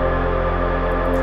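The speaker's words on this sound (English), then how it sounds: "but also some kind of noisy lead sound." A noisy synth lead patch in Ableton Live, with a lot of bass in it, holds a thick, dense and steady tone that stays loud throughout without any talking.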